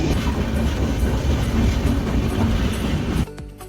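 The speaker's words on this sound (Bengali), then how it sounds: "ট্রেন এবার দাদার স্টেশনে ঢুকবে" A train pulling into Dadar station rumbles loudly with rhythmic clattering of wheels over rails, then the noise drops off abruptly near the end.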